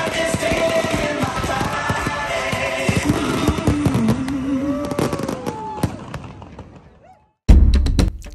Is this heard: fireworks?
yes